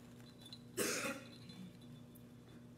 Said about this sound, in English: My little boy's over there coughing